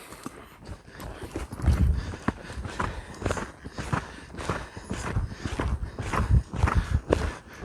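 A horse loping, its hooves striking in a steady three-beat rhythm, close and fairly loud, with saddle creaks and movement noise around the footfalls.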